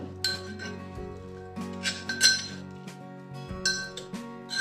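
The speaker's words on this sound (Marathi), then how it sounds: "तिळगुळाचे कूट मी भांड्यात काढून घेत आहे।" Ground sesame and jaggery mix is scooped into a metal vessel, giving a string of bright metallic clinks and scrapes that come in irregular bursts over quiet background music, with no speech.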